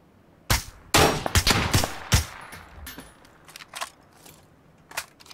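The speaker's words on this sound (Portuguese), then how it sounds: "Dei dois tiros nele." Several loud gunshots crack in PUBG Battlegrounds, first a close burst of four or five rapid shots and then scattered quieter shots and impacts trailing off over a few seconds. No one speaks.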